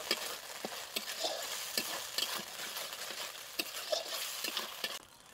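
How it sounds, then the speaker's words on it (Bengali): Chicken frying in a pan with tomato sauce and red chili sauce while being Chicken 65 style, a steady close sizzle with repeated scraping stir strokes, no talk, ending abruptly. "এখন টমেটো সস আর রেড চিলি সস দিয়ে একটু ভেজে নেব"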